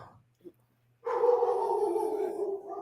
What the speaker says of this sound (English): Wow, we're getting the dogs all riled up.